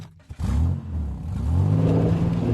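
A car engine accelerates and revs as a driving sound effect, with a loud, close, rising mechanical drone after a short initial clatter and no talking.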